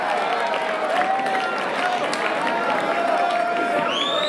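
An open mic audience in a small studio claps steadily, a dense continuous patter with some cheering voices and a speaking voice on top, loud and close throughout.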